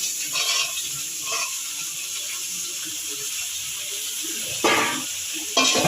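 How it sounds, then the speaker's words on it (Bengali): Vegetables fry in a pan with a steady, fairly loud sizzle, broken by a few clattering stirs and scrapes, with no talking. "এবার এটাকে ভাজা ভাজা করে তারপরে সবজিগুলো ভাজা ভাজা করবো।"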